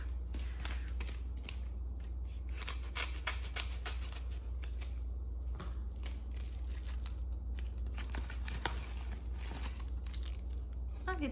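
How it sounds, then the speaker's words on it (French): Close-up crinkling and snipping of plastic packaging, a run of quick crisp cuts and rustles against a low steady hum. "Fait que j'allais chercher des ciseaux"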